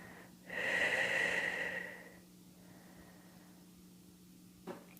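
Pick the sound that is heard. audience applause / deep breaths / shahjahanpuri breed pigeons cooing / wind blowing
deep breaths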